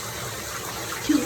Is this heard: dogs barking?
no